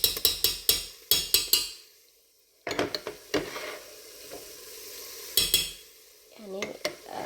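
Onions frying in a pan are stirred with a spoon, producing a rapid series of sharp scraping strokes, a quieter sizzling pause, then more scrapes and clatter up close.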